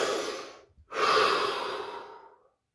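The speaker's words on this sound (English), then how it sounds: "Take a breath. Start with a breath." A person draws one deep, audible breath, then after a short pause lets out a long, airy exhale that fades away, heard close and alone.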